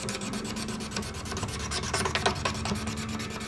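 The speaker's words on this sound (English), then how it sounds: "take the razor blade and lightly scrape, removing any type of grime or finger dents" A flat Stanley razor blade is drawn lightly across an acoustic guitar fretboard to scrape off grime, producing a rhythmic, close, raspy scraping with regular strokes about every tenth of a second.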